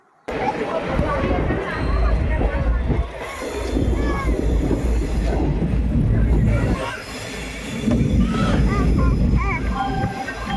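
A train rumbles steadily along the rails, with wheel clatter and carriage noise, while people talk nearby over the din.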